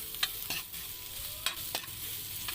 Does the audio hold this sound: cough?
no